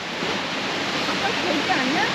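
A waterfall at Plitvice Lakes, Croatia, gives off a steady hissing roar of falling water, moderately loud and constant, with faint voices murmuring beneath it.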